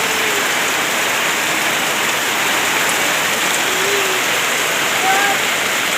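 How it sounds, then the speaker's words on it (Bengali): Heavy rain pours down without letup, a dense, loud, even roar of water striking surfaces close by with no breaks. "এখন আমাদের এখানে প্রচুর বৃষ্টি।"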